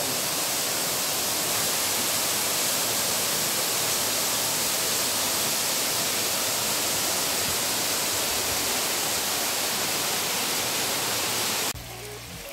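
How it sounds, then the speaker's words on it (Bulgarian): The Konevski waterfall on the Konevska river, beneath cliffs, roars as a loud, dense, unbroken rush of falling water close by, ending abruptly near the finish. "Коневския водопад на Коневската река зад нас."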